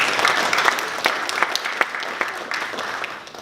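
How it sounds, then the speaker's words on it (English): An audience claps at a university comedy show for veterans, a dense burst of applause with sharp individual claps standing out near the listener, sustained and gradually tapering. "Round of applause for yourselves."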